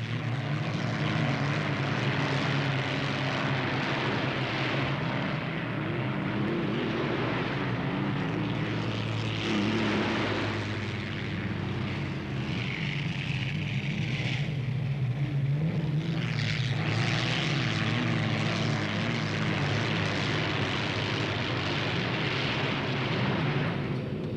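Unlimited hydroplane racing boats powered by aircraft engines leave for the next heat of the Gold Cup, a loud, continuous droning roar that swells and dips for more than twenty seconds, heard from a distance over open water with no voices.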